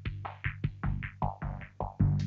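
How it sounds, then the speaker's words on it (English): Heavyocity Evolve synth patch, chopped up and played as a tonal bass-and-groove line: a quick rhythmic run of close, punchy low notes with swept tones, about eight hits in steady pulse, no voices. "this is an Evolve patch that I have bounced into place and chopped up"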